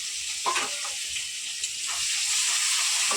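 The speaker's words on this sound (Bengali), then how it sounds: "পেঁয়াজ আর টমাটোটা দিয়ে দিচ্ছি তেলের মধ্যে" Chopped onion and tomato sizzle in hot oil in a pan, a steady close hiss with a few soft clinks and stirring scrapes.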